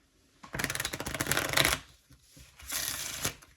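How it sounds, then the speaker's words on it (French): Playing cards are shuffled up close in two quick bursts, a dense riffling flutter that runs over a second and then repeats more briefly, with no voices. "on va pouvoir venir mélanger"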